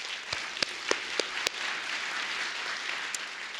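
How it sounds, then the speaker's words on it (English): Faint, distant audience applause at an arts advocacy event, a soft wash of clapping with a few sharper claps standing out near the start. "Give yourselves a huge round of applause."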